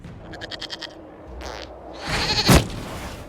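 A goat bleats in the Dragon Age: Inquisition video game, with several quick, wavering bleats up close, followed by a louder burst of game noise.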